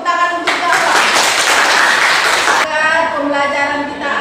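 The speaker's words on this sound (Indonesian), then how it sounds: "Tepuk tangan untuk Bapak." Classroom applause for a teacher: a burst of clapping from a group of pupils lasting about two seconds, with voices speaking before and after.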